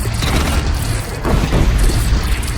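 A bridge collapses in Horizon Zero Dawn, a loud deep rumbling crash with crumbling debris that swells midway and rolls on close and heavy without voices.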